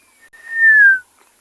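A person whistles an imitation of the African grey hornbill's call on a sunset safari: one clear, sustained whistled note that slides slowly downward and stops abruptly, heard alone and close.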